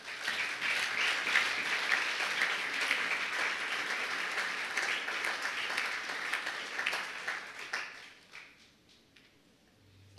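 A church congregation at a Sunday service applauds loudly: dense, sustained clapping from many people that carries for about eight seconds, then thins out and fades to near quiet.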